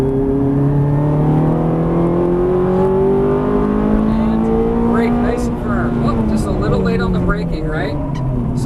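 A Ferrari 430 accelerates hard on a race track, its engine note rising loudly and steadily from inside the car, with a shift or two and a voice briefly speaking over it.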